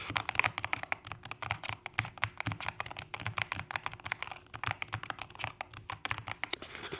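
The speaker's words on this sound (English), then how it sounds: "the key that I'm pushing down on now, the switch or the purple switch that we're using" Rapid, continuous typing on a Keychron K2 HE keyboard fitted with purple switches: dense, close clacking keystrokes in an uneven, busy rhythm with no voices.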